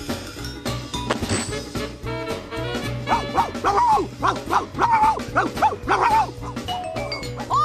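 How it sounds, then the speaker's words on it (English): Pluto, the cartoon dog, barks in a run of repeated yips and woofs over a lively orchestral cartoon score, the barks close and prominent through the middle of the passage. "What's he barking at? Knock it off, Pluto!"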